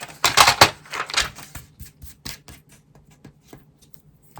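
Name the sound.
paper guillotine cutter cutting card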